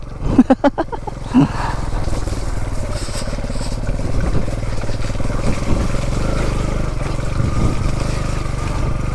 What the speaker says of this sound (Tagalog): Ang dami nga motor dito eh.